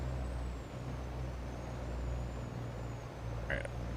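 A truck in Farming Simulator 22 rumbles at a steady low idle, then gives one brief air-brake hiss near the end.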